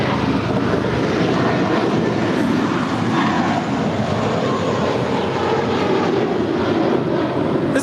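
An airliner at LAX rolls for takeoff with a loud, steady, broadband engine roar that fills the whole stretch with no pause, close and powerful, no voices.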